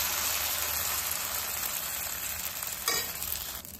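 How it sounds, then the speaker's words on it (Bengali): Pitha batter poured into a hot oiled wok for patishapta, crackling and sizzling steadily up close, with a sharp burst of sputtering as more batter hits the oil near the end. "এখন আমি কড়াতে পিঠার ব্যাটারটা এক হাতা দিয়ে দেবো"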